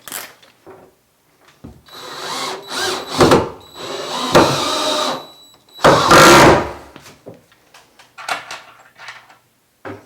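A power drill drives screws into a 94-inch wooden unit, several loud whirring bursts of a second or so each, separated by quieter clicks and handling knocks.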